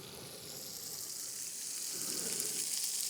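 Pork sizzling and frying in hot oil in a pan, a steady close crackling hiss that grows slightly louder, with no talking.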